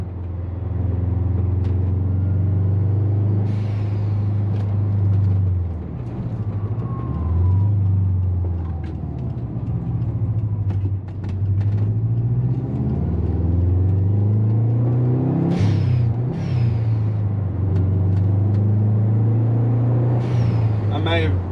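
A 2004 Subaru Forester XT fitted with a GFB hybrid blow-off valve drones steadily as its engine revs rise and fall through gear changes, including a missed shift into third, with sharp venting bursts near the end.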